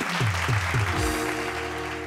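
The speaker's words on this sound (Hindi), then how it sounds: "जोरदार तालियां" Studio audience applause on a Bhojpuri TV game show, a steady crowd clapping that fills the short moment, with a tonal musical sting layered over it.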